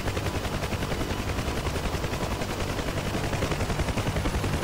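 Rapid continuous helicopter gunfire in the combat flight game DCS during a helicopter PvP battle, with dense repeated shots forming a steady rattling burst that runs the whole time at high level.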